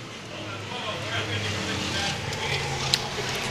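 Sling shot race cars on an oval racetrack during a feature race: a continuous engine drone from several cars circling at a distance, steady and fairly loud, with a race announcer talking over it.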